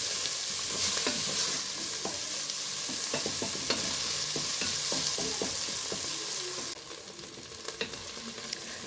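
Spring onions frying in a pan, a steady close sizzle broken by the repeated scrape and clack of stirring, with no talk.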